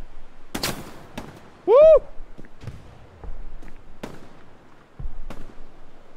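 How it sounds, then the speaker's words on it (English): Scattered gunshots from an online World War II shooter game, Hell Let Loose, come as sharp separate cracks at irregular intervals, some distant, alongside a short shout from a player. "They shooting out here, bruh."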